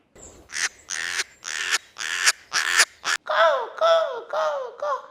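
A young crow caws repeatedly, loud and close, in a run of about ten harsh calls at a steady rhythm. The later calls turn more drawn-out and wavering, with no talk.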